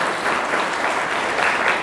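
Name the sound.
audience applause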